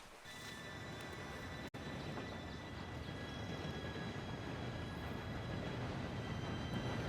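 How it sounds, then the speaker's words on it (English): A steam train in the Red Dead Redemption 2 video game approaches as a steady low rumble and rolling drone that builds gently, with a faint tonal hiss above, broken once by a brief cut, without speech. "Train should be here any minute now."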